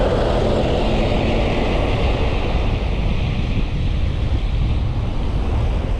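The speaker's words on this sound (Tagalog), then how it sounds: "Sarap ng hangin, oh." Strong wind on a hillside near windmills in Pililla, Rizal, buffets the microphone as a loud, steady roar with no breaks, no voices and no other sounds.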